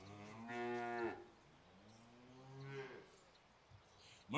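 Two long, low cow moos a couple of seconds apart, the second bending in pitch, heard fairly close on a farm with quiet background between them.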